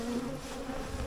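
A honey bee swarm buzzes close by, a dense continuous drone from many bees that stays even throughout the brief moment, with no voices.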